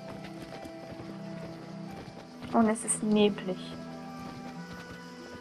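Hooves clip-clop briefly as a horse moves in the video game Abenteuer auf dem Reiterhof 6, a short run of clopping steps with a whinny-like tone mid-clip, set against soft game music and a person talking.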